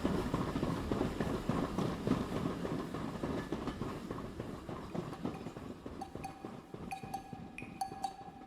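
A mail train rolls along rails at night in outback Australia, a steady rumbling clatter with repeated wheel knocks close by, joined late by a few thin tonal squeals.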